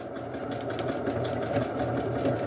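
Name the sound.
sewing machine running at low speed, sewing strips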